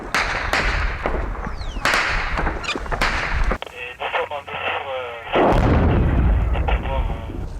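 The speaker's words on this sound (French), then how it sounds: "C'est des arrivées de RPG-7 ça." Incoming RPG-7 rockets strike nearby during an Afghanistan firefight, with loud sharp blasts and cracking gunshots coming in rapid succession, plus a few brief radio-like sounds between the impacts.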